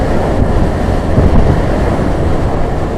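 Bus accelerating along a main road on the trans-Sumatra highway, a continuous heavy engine and road rumble at a steady level, with no talk.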